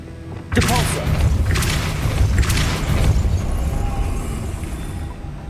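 Depulso force spell cast in the Hogwarts Legacy video game, a sudden loud booming burst followed by rumbling magical whooshes and thuds that stay dense and sustained for several seconds.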